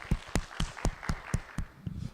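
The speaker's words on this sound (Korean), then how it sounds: "우리 받으신 주님께 감사의 박수" A Korean church congregation claps in thanks, about eight firm, evenly spaced claps in unison with a slight echo before the rhythm loosens.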